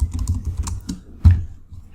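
Someone types on a computer keyboard while writing Spring Boot microservice code, producing a quick run of light, close key clicks with one sharper tap near the middle.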